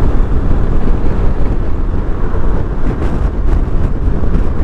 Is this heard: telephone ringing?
no